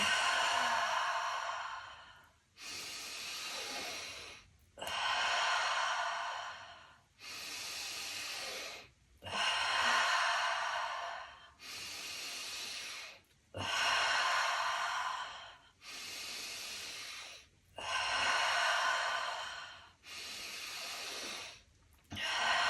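Slow, deep breathing during a guided breathwork session: about nine long, loud, close breaths with airy hiss, each separated by a short pause, in a steady rhythm and with no talk over them.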